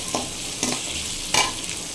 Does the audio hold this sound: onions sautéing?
yes